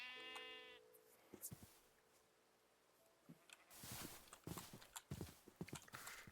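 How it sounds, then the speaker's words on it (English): Pink sheep in a video game giving one brief bleat at the start, followed by quiet clip-clop footsteps and scattered thuds that grow busier and louder toward the end. "Oh my god, it's a pink sheep."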